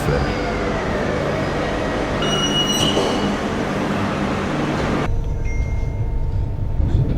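A train rumbles and rolls in steadily, with a brief high metallic wheel squeal midway and a sudden drop in background noise near the end.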